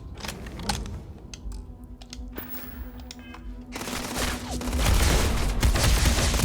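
Gunfire aimed at a robot in Starfield, starting as scattered shots and clicks, then swelling into a louder, denser volley of rapid fire toward the end.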